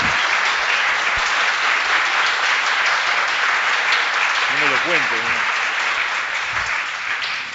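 A crowd at a Uruguayan political event applauds loudly and continuously, with a brief voice rising over the clapping midway before the applause fades slightly at the end.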